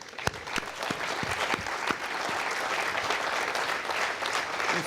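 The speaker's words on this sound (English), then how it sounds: "il faut applaudir pour Colleferro" At a Vega launch event, a large audience applauds for Colleferro, with a few distinct claps at first merging into sustained, even clapping that holds to the end.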